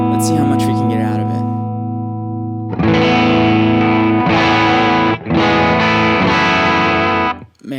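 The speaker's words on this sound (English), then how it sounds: "that sounds like an overdrive pedal." High-gain electric guitar through an ACS1 amp pedal on firmware 2.0, a sustained distorted chord ringing out, then loud, thick crunchy chords strummed in bursts with brief gaps, close and prominent.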